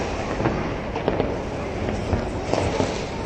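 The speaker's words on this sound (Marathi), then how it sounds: "कसले फटाके उडले." New Year firecrackers burst in a dense, continuous crackle with scattered louder pops at a distance, under a steady noisy background; a voice is faintly present.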